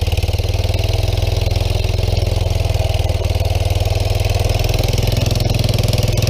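A small Yamaha three-wheeler engine idles close by, a loud, steady, rapid putter with an even rhythm throughout and no voices.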